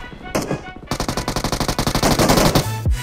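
Rapid automatic gunfire from a video game rattles out in a fast, even burst of loud shots after a couple of brief opening blasts, ending in a low thud.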